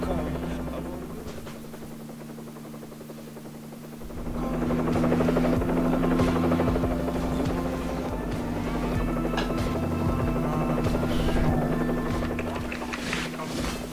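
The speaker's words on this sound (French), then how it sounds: "On prend plutôt l'hélicoptère, ça sera plus simple pour atterrir." Helicopter in the Second Life video game, with a steady droning rotor buzz that swells louder after a few seconds and holds for the rest of the clip.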